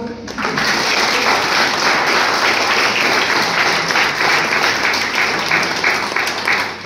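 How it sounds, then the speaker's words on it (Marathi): Sustained loud applause from an audience at an inter-college speech competition, a dense, steady wash of clapping that holds evenly throughout and then tapers slightly at the end. "परत एकदा जोरात टाळ्या वाजवा"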